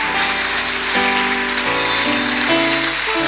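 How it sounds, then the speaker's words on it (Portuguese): A church congregation applauds the Lord Jesus Christ, a dense, steady wash of many hands clapping throughout, with sustained keyboard or organ chords changing underneath. "Aplauda ao Senhor Jesus Cristo."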